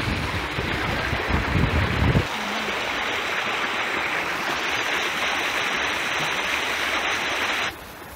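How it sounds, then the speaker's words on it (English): Water running and trickling down a side channel of the River Ise at Wicksteed Park, a steady close rushing flow that continues throughout, with a louder low thump near the start. "See that side channel where it's all dripping down?"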